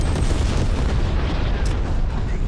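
A SAM turret fires at an enemy in a video game. Heavy, continuous booming artillery-like bursts run throughout, loud and close, with little clear speech.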